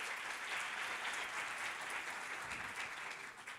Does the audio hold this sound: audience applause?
yes